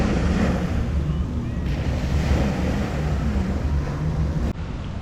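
Ocean waves wash onto a beach in Pattaya, a steady broadband surf roar mixed with wind buffeting the microphone, continuous throughout with a slight drop near the end.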